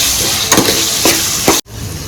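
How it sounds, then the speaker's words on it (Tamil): Steady sizzling of potatoes frying in hot oil, broken by a few soft stirring scrapes and a brief cut near the end. "நல்லா இந்த ஆயிலில் நல்லா வதக்கி வச்சிடலாம்."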